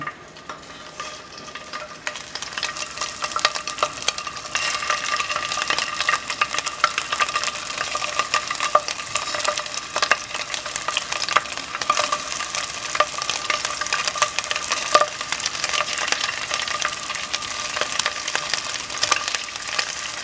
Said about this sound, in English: You want to hear a good sizzle when it goes in the pan.